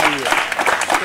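Underprivileged children at a Diwali celebration at an NGO break into brief, loud clapping in uneven bursts, with a voice briefly audible over the start.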